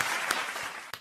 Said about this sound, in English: Round of applause for Joffit, guys.